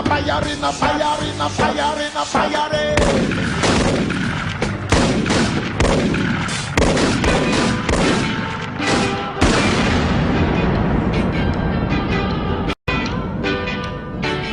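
Sustained gunfire in a dense, continuous barrage of overlapping shots and booms, loud throughout with no pauses, layered with rumbling blasts.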